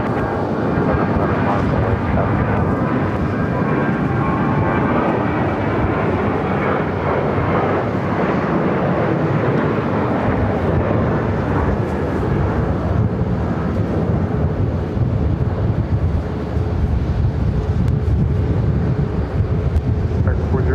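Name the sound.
Boeing 737 jet taking off from runway 7 left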